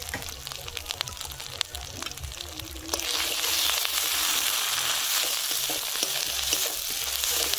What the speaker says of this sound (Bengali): জিরেটাকেও খুব ভালো করে ভেজে নেবো।